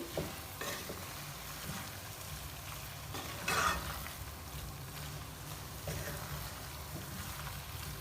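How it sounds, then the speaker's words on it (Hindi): Potato and egg bhujia fries on full flame with chopped green coriander on top, a steady low sizzle broken by occasional scraping stirs of the pan. "फुल फ्लेम पर इसकी हम 1 मिनट तक करेंगे भुनाई"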